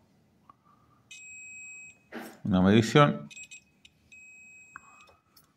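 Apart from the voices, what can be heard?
multimeter buzzer beeping during diode test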